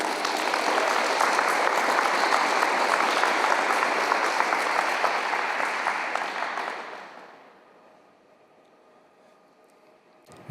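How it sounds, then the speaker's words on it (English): Loud, sustained applause from a poetry event audience at a fine arts museum fills the first seven seconds, then fades quickly to a quiet room with a few scattered claps. "So give a warm round of applause to Joshua Burton."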